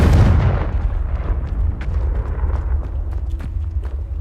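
A Confringo spell blast in Hogwarts Legacy: a loud, close explosion bursts at once, then a rumbling tail and scattered crackles and debris fade over several seconds.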